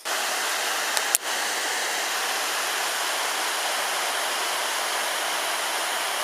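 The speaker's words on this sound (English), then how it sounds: "the latest of several mini waterfalls" A small waterfall on the South Esk River in Tasmania pours with a steady, close rushing hiss that stays constant throughout. A brief click sounds near the start, and no one speaks.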